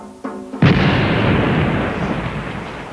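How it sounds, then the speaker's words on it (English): Cannon bombardment of the home capitals of Satsuma and Choshu by Western ships: after a brief tonal lead-in, a single heavy, close boom hits and rolls into a long, loud rumbling decay that fades slowly. "With modern cannon, they bombarded the home capitals of the shishi in Satsuma and Choshu."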